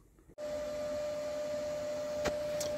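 Tack welding a rust repair panel on a Daihatsu Copen: a MIG-style arc starts abruptly and holds a steady, close buzzing crackle with a faint tonal whine for about two seconds.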